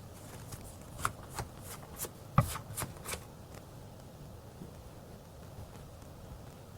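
Tarot cards are shuffled before a draw, giving a short burst of crisp riffling and snapping clicks that fades to quiet background hiss. The handling sounds are faint and close, with no voices.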